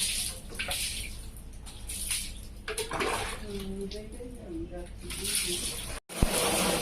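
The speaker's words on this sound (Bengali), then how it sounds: "এই যে সাইকেল ধোয়া হচ্ছে" A bicycle is washed with water, giving a steady broadband splashing and spraying hiss throughout, with voices talking over it and a brief cutoff near the end.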